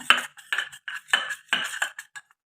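A spoon stirs curd into a mixture in a bowl, with a series of close clinking and scraping strokes in an uneven rhythm, quiet overall and without talk.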